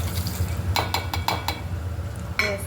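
Red chillies fry in a pan, a low steady sizzle under a string of sharp metallic clinks and scrapes as a spoon stirs, close and moderately loud.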